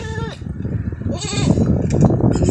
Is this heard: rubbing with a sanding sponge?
no